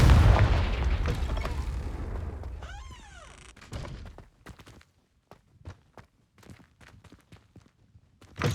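A Confringo fire spell explodes in Hogwarts Legacy, opening with a loud booming blast that rumbles and fades over about four seconds, followed by scattered light footsteps and small clatters.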